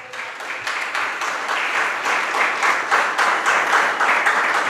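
An audience at a Jain religious sermon in Itarsi claps in sustained, dense applause that swells slightly and holds steady, loud and close.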